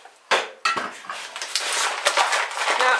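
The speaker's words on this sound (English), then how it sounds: "Get the dishes out the way." Ceramic dishes and metal cutlery clatter and scrape as they are pushed aside in a home kitchen while a Christmas cake is being made, with sharp clinks up front followed by a run of jostling rattles, close and loud.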